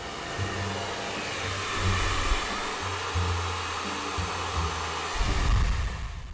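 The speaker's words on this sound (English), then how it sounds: "use a hairdryer, a strong one, at least 1800 watts" A strong 1800-watt hair dryer heating a PowerBook screen blows steadily with a loud broadband rush and a low motor hum that shifts slightly in pitch, with no talking.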